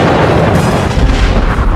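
An American howitzer fires shells, a heavy booming blast that rolls on in a dense, rumbling roar for almost two seconds before cutting off abruptly, with no voices.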